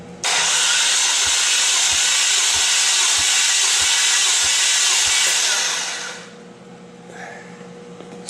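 A 2.0T Genesis engine cranks during a compression test, giving a row of evenly spaced low thumps under a loud, steady hiss that fades out about two-thirds of the way through.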